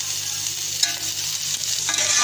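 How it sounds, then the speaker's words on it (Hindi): Chopped vegetables including capsicum and sliced tomato are sautéed with chicken in a pan, giving a soft continuous sizzle with spatula stirring scrapes on top. "इन वेजिटेबल्स को साथ ही हम चिकन के सौते कर लेते हैं।"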